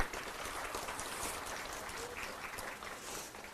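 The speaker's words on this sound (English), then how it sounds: "please join me in a round of applause for Albert" Audience at an athletics hall of fame ceremony gives a round of applause, a steady, faint, distant wash of clapping lasting a few seconds.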